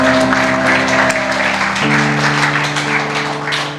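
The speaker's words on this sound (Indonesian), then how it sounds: "Tepuk tangan bagi Dia." A church congregation applauds steadily during a worship service, a dense wash of clapping that holds for several seconds over sustained keyboard chords playing underneath.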